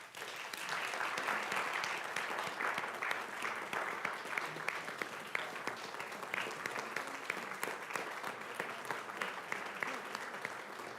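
Sustained applause at a school board meeting honoring the Castleberry Athletic Booster Club, a full room of clapping holding a steady, fairly loud level for about ten seconds with no talk over it.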